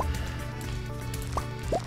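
Watering crops with a watering can in Stardew Valley gives short dripping, splashing game sounds, a few quick liquid blips over a steady background hum of game music.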